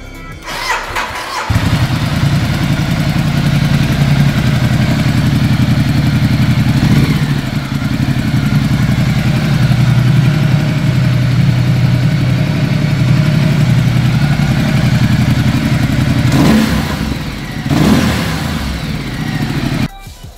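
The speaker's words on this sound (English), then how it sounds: "now I'll show you how the stock exhaust sounds like" Ducati Multistrada 1200S with its stock exhaust starts up loudly after a brief crank, settles into a steady, close idle, then gets a couple of sharp revs near the end.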